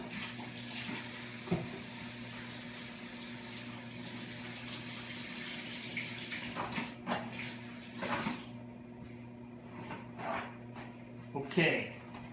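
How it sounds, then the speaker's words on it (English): A bathroom or kitchen tap runs steadily while hands are washed during home cookie baking, a continuous close water hiss with a few clatters and splashes, and a person talks over it. "I'm gonna go wash them again just because I'm paranoid."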